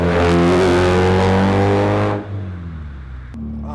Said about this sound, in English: The engine makes great noises, nice and responsive